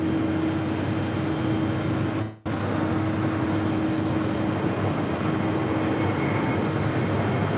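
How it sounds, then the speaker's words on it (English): An Aer Lingus Airbus A330-300 rolls down runway 4 Left at JFK, making a continuous jet roar with a steady tonal hum. A brief dropout interrupts it partway through, then the rumble resumes unchanged. "We got an Aer Lingus A330-300 now rolling down 4 left."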